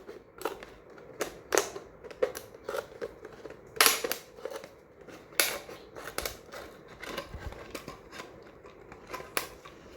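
Scissors snip through a waste plastic bottle to trim it to height, giving a series of sharp, crisp cuts and crunches at an irregular rhythm, close and distinct with no talking.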